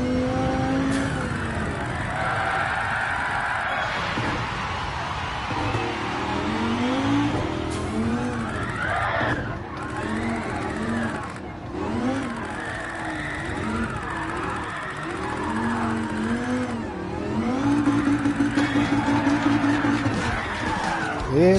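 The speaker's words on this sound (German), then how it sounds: "Der zweite Drift, der nicht funktioniert." A race car in Gran Turismo 7 attempting a drift that fails: engine revving and rising and falling in pitch, tires squealing and skidding repeatedly, loud and continuous throughout with no talk.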